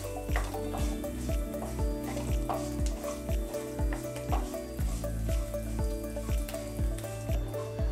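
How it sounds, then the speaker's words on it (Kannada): Green chilies and cashews frying in oil over a low flame, a continuous close sizzle with regular sharp metallic stirring clinks from the pan repeating roughly every half second throughout. "ಈಗ ನಾನು ಗ್ರೀನ್ ಚಿಲ್ಲಿ ಹಾಗೆಯೇ ಗೋಡಂಬಿ ಹಾಕ್ತೇನೆ. ಲೋ ಫ್ಲೇಮಲ್ಲೇ ಫ್ರೈ ಮಾಡ್ಕೋಬೇಕು ಇದನ್ನು."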